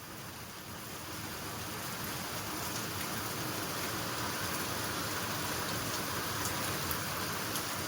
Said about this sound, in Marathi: फुल जोरात पाऊस येतो.